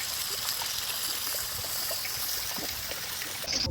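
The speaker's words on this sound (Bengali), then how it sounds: "এর উপর দিয়ে সামান্য আমি একটু জল দিয়ে দিচ্ছি, মাছটা সিদ্ধ হওয়ার জন্য" A little water is poured over fish in a spiced curry pan, making a faint, steady trickling and splashing that runs evenly throughout, with a brief clatter at the very end.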